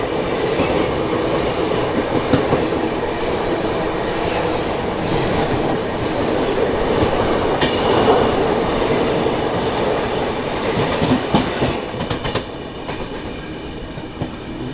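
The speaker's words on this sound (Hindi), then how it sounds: "अब सामने से कोई ट्रेन आ रही है" A WFD7 locomotive hauls a Ghaziabad local set past on Indian railways. The close, loud train rumble carries steady wheel clatter and rail clicks throughout, with brief sharp squeals, and no talk.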